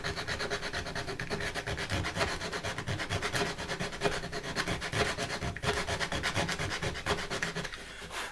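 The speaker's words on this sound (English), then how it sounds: "I'll have to sand that out." Sanding a burnt spot on a wooden patress for a vintage Bakelite switch, a steady, continuous rasping rub close by, with rhythmic strokes running throughout and easing off near the end.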